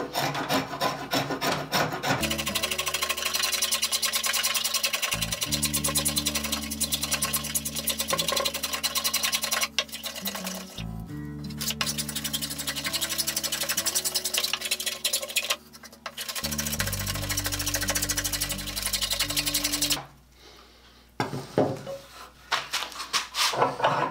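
A spokeshave shaves wooden wheelbarrow handles in a run of rhythmic rasping strokes, each a few seconds long, separated by short pauses, close and fairly loud with a steady low hum beneath.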